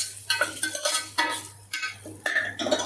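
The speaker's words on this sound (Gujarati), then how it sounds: "એને આપણે એક મિક્સર કરી લઈશું।" A spoon scrapes and stirs through barnyard millet khichdi mixture in a cooking pot, producing rhythmic scraping strokes in short bursts over a steady low hum.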